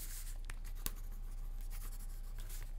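Colored pencils scribble on paper in a mixed-media craft session, making quiet, close scratching strokes in short irregular bursts.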